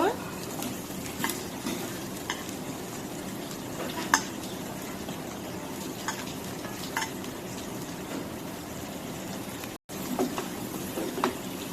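Snake gourd frying and sizzling in a pan while being stirred, a steady hiss with occasional scraping and clinks of a spatula against the pan throughout.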